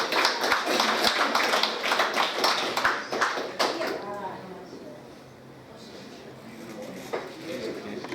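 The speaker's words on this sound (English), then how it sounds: "Give her a big round of applause." Applause from a group of older people on a day trip as a woman rejoins them: a burst of close, scattered claps and taps that thins out after a few seconds, with voices talking and birds cooing around.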